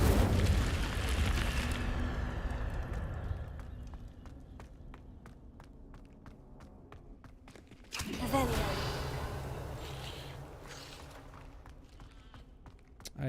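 Incendio fire spells in Hogwarts Legacy erupt in two roaring bursts of flame, the first loud and decaying over several seconds amid scattered footsteps, the second flaring up again midway, with a voice speaking over the combat.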